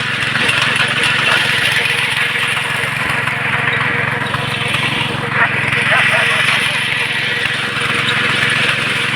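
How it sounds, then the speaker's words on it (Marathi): Steady tractor engine drone while ploughing a field runs throughout, a continuous mechanical rumble with a broad roar overhead, close by and fairly loud. "खूप उत्कृष्ट पद्धतीने अशी या ट्रॅक्टरने नांगरणी होते"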